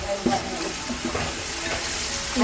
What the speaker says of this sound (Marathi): ह्याच्यामध्ये सर्व कांदा लसूण कढीपत्ता फोडणी द्यायला घेतलेली आहे